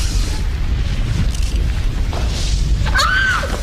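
A loud, continuous low rumble of booming explosions plays from a TV screen showing fireballs falling from the sky, with a whistling, sweeping tone near the end.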